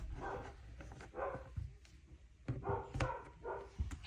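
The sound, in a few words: dog barking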